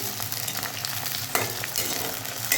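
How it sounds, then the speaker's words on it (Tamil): Okra being sautéed in a pan for kara kuzhambu, a continuous loud sizzle with stirring scrapes and a couple of sharper clatters of the spoon, no voices. "ஓரளவுக்கு வதக்கி எடுத்துக்கலாம்"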